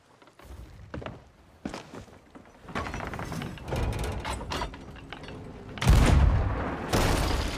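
Several heavy booming cannon blasts in Sea of Thieves, loud and close, with a cluster of sharp bursts near the end amid rumbling action noise.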